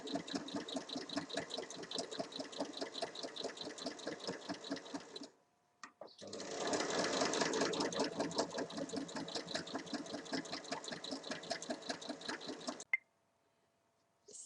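A sewing machine stitching around all four sides of a fabric rectangle for a lined pouch, a fast even mechanical whir running continuously with a brief pause midway before stopping.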